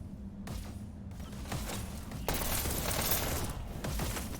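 Rapid automatic gunfire crackles in a VR esports shooter match, sustained bursts overlapping and swelling louder midway, with sharp gaps between volleys.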